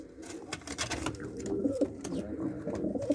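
Platinum and white-tail tumbler pigeons cooing close by, soft repeated throaty coos rising and falling over light background rustle.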